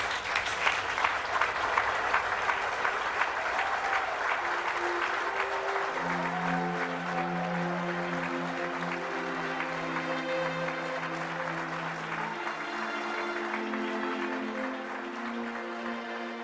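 An audience at a Footsteps to Freedom gathering applauds the standing foot soldiers of the freedom struggle or their representatives. Full, steady clapping dominates at first, then softens as sustained musical tones rise and carry on beneath it.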